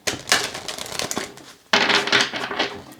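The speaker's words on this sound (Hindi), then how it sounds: "आपके लिए कार्ड्स को शफल करते हैं।" Tarot cards being shuffled for a weekly horoscope reading, two bursts of close, crisp riffling and flicking, the second starting abruptly after a brief lull, with no talk.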